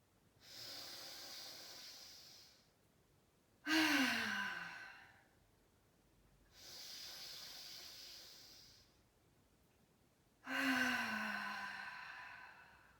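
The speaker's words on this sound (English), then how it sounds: "let's take 3 deep breaths here, wherever you are" Slow, deep breaths taken during a vinyasa yoga flow: two long, airy inhales alternate with two stronger sighing exhales, about four breaths in all, close and clear with no talking.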